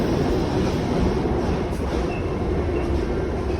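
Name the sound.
subway train passing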